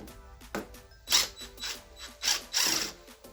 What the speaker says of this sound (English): Tip in the impact driver.